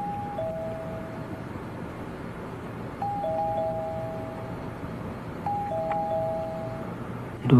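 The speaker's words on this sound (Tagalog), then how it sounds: "Doorbell ko yun ah." Two-tone doorbell chime rings three times at steady intervals in a quiet room, each ding-dong clear and moderately loud with a soft decay, followed by a brief thump at the end.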